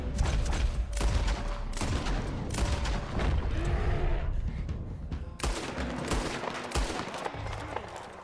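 Gunfire in Red Dead Redemption 2, with repeated sharp shots and bursts at close range, some echoing, throughout a chaotic fight with no speech.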